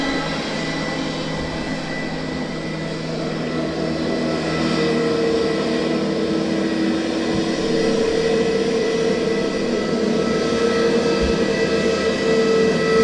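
An easyJet airliner departing from runway 23 at Southend Airport, a steady jet engine roar that swells midway and holds loud, broad and continuous, with no talk over it.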